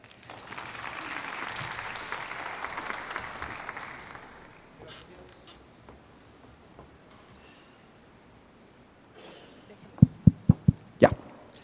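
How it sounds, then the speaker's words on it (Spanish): A symposium audience applauds a guest speaker, steady dense clapping for about four seconds that then dies away into quiet room tone, followed near the end by a few sharp, close knocks or taps. "para quienes pido un fuerte aplauso"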